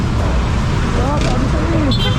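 Night road traffic at 11 pm forms a dense, continuous rumble of car and bus engines nearby, with voices talking over it.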